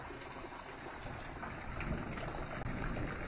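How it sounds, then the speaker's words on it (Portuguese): Rainwater pours steadily off a house roof during a fresh downpour, a continuous broad rushing gush with dense rain patter, close and fairly loud throughout with no voices. "Começou a chover de novo."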